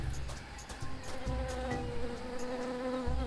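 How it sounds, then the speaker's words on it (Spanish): Insect-like buzzing of a bee in the video game Tales of Monkey Island, a steady hum running the full length of the clip amid soft game ambience, with no talking. "Suena abeja."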